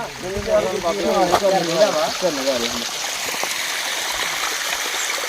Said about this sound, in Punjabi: ਝਰਨੇ ਦਾ ਪਾਣੀ ਆ